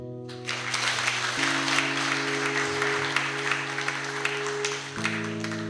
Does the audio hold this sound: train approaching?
no